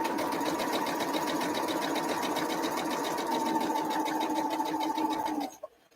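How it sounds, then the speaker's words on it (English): A sewing machine runs steadily at a two stitch length while sewing an arrowhead quilt block, a continuous close mechanical whir that holds for over five seconds before stopping abruptly, followed by a faint click. "So now I'm going to go sew"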